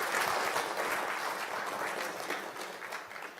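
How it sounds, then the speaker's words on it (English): An event audience applauds at a student design awards ceremony, a steady wash of many hands clapping that stays fairly loud and gradually eases off toward the end. "Can I have a yes and applause?"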